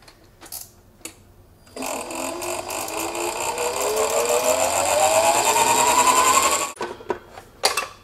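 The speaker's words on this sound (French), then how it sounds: "Et maintenant, je vais la fouetter à fond comme une chantilly." Electric whisk whipping white chocolate ganache to a thick, cream-like consistency, a steady loud motor whir running about five seconds with rising pitch as the mixture thickens, then cutting off abruptly.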